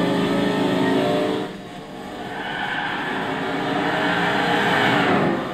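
Audi RS6 Avant V10 with a 5-litre 40-valve TFSI engine in Gran Turismo 6, revving loud and close, the note dipping briefly before climbing steadily back to a high sustained roar.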